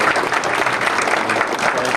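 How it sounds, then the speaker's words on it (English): Audience at a Wisconsin Classic event gives a burst of steady applause, a dense, fairly loud roar of many hands clapping with no clear talk over it. "give him a round of applause"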